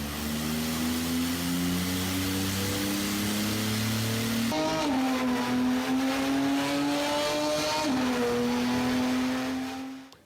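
Car engine roaring with a steady low drone that shifts pitch as revs rise and fall, with harmonics sweeping up around the middle and again near the end, loud and continuous with no talk.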